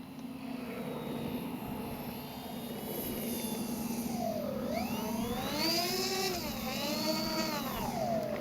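An Avios Twin Otter RC model plane flies overhead at speed, its twin electric motors giving a steady whine that rises and falls in pitch as it passes, moderately distant over a constant background hiss.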